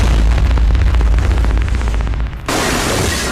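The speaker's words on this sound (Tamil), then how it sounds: "சரவெடி" A dense, loud crackle of a firecracker string bursting, rapid pops and booms rolling together, then a sudden shift into a harsher, hissing roar of continuous bursts.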